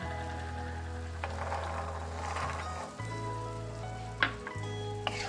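Potatoes and green peas for aloo dum stir-fry in a pan with a steady, close sizzle, a couple of clinks of the spoon against the pan and a low electrical hum underneath.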